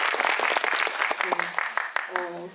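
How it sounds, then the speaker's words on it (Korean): Audience applause at an actor Q&A event in a cinema, a brief, fairly quiet patter of clapping mixed with talk. "박수 한번."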